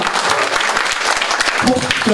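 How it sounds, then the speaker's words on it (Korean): A crowd at a party lecture event with Seoul mayor Park Won-soon claps loudly and continuously, a thick, close burst of many hands with sharp individual claps, and voices briefly rise near the end. "우리 뜨거운 환영과 격려 응원의 박수에 함성을 보내면서"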